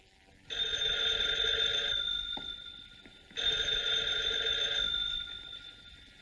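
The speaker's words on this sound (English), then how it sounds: "I just received a mysterious phone call about Uncle Martin" An old-fashioned telephone bell rings in two long bursts separated by a short pause, loud and close.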